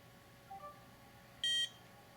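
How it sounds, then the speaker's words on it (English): A card reader used for NFC proxying of a credit card through phones gives a single short electronic beep, clear and fairly close, after a faint earlier blip against a quiet background. "We should see some beeping and the LEDs light up again"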